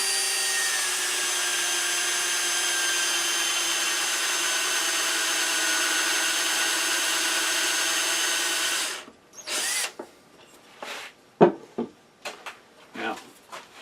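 A power drill whines steadily for several seconds, drilling a half-inch hole in a wooden blank for a turned box, then stops, followed by scattered knocks and clatter nearby.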